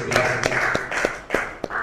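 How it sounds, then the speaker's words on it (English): Scattered hand claps break out for the chairman at a national press conference, a handful of sharp, uneven claps spread across a couple of seconds over room murmur. "A round of applause for Chairman."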